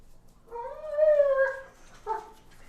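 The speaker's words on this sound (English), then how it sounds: "That's my dog." A dog howls excitedly in a yard where brisket is smoking, one drawn-out rising howl followed by a short yip, moderately close and heard alone.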